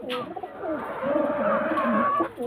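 A pigeon coos close by in a soft, rolling, drawn-out call that swells and fades over a couple of seconds, with no other sound around it.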